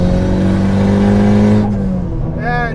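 A turbocharged 2014 Honda Civic accelerates hard, its engine note a loud, close, rising drone that holds strong before easing off near the end with a brief higher whine.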